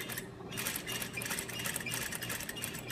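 A sewing machine runs in a quick, even rhythm while stitching closed the pocket of a gore skirt, a close, continuous mechanical chatter with no talking.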